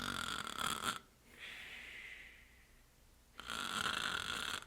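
A voice imitates slow sleep breathing and snoring, one long drawn breathy snore of about two seconds set between louder, broader bursts of sound.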